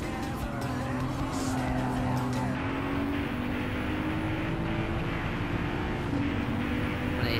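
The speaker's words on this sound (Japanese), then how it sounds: "これ、ね、シフトアップの時の音がね" A Mercedes-AMG race car engine in Gran Turismo 7 drones loud and continuous with shifting pitch as it changes gears, with faint tire noise underneath and no talking.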